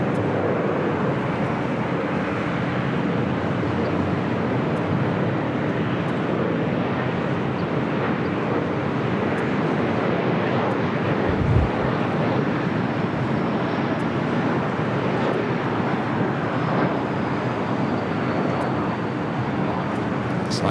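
A Korean Air Cargo airliner arriving from Seoul touches down at LAX, a steady broadband jet roar heard at a distance, mixed with wind noise on the microphone and holding nearly level throughout.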